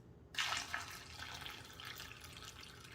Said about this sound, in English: please be careful as you pour your liquid into your jar of onions